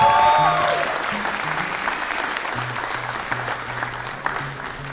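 Audience applause for comedian Jordan at a comedy festival in Yakima, Washington, a loud continuous crowd clapping that gradually thins, with low musical notes playing underneath and a few brief voices.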